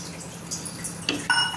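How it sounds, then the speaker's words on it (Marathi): A short pour of water splashes into a pan of paneer masala over low kitchen noise, ending with a small metallic clink. "आता मी टाकते त्यात थोडं पाणी"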